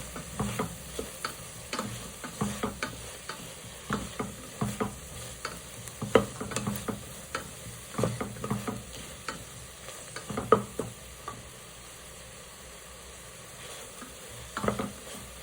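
Peas and carrots sautéing in a pan for a paneer pulao, a soft steady sizzle under repeated scraping stirs, quiet and close, with no talking.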